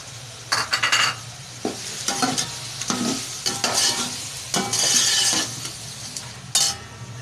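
Spices such as biryani masala being stirred into chicken frying in a pot, a steady sizzle under repeated scraping stir strokes and light clinks of a spoon against the pan, close and fairly loud.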